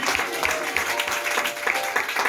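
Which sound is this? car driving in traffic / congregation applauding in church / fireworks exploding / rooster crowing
congregation applauding in church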